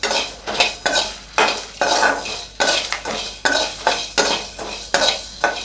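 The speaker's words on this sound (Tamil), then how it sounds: "இப்போ நம்ம பிரியாணி மசாலாவுக்கு தேவையான பொருள்லாம் சேர்த்துட்டு லைட்டாக வறுத்துக்கோங்க." Biryani masala spices dry-roasting in a pan, stirred with a metal utensil: a quick, regular run of loud scraping strokes against the pan, close up, about two per second, with no speech.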